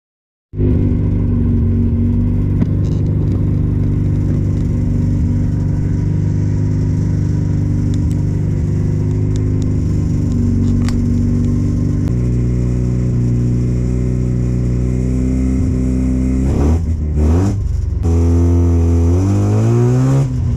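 Mazda RX-7 race car in IT7 trim at Watkins Glen, its rotary engine droning loud and steady while rolling toward the grid, then revving sharply up and down near the end.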